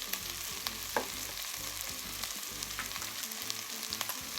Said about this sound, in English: I'll be adding in my chopped garlic, my sweet potato